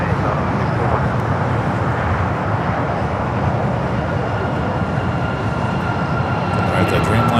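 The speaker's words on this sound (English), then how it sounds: "We got that United Dreamliner up next for arrival." A United Boeing Dreamliner on approach to land at LAX, inbound from London Heathrow, makes a loud, steady jet roar with a broadband rumble that carries evenly throughout, with faint chatter in the background.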